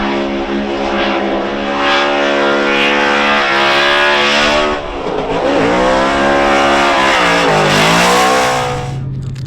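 A high-revving Formula Drift car engine screams loudly and continuously at about 100 mph, pitch climbing and dipping through gear changes and throttle shifts, with no talking.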